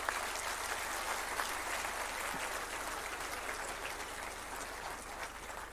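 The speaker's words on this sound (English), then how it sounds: "let us have a huge round of applause for all the DOT employees right here" Sustained applause from a large crowd honoring telecom department employees at a World Telecom Day 2023 ceremony, a dense, steady wash of clapping that holds evenly for several seconds with no talk over it.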